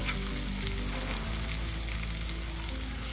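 Spices fry in hot oil for a mango pickle with a constant close sizzle and crackle. Occasional stirring sounds rise above it, under a low hum, and there is no talking.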